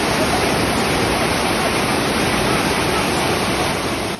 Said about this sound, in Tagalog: Sa lakas ng agos ng tubig dito, pwede ka talagang mag-water rafting.